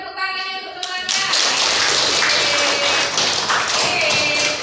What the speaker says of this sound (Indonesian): Kasih tepuk tangannya untuk temannya.